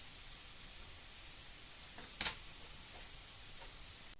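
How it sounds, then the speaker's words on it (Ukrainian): Mushrooms fry in a pan with a steady, faint, continuous sizzle and hiss, with a brief louder stir or clatter partway through and no talking. "Так, поки у нас смажаться ось гриби"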